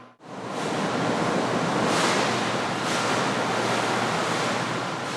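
Waves generated in a laboratory wave tank strike a 1:50 scale breakwater model, set to mimic 6 m typhoon waves. They make a loud, continuous rushing wash with a few surging swells and no voices.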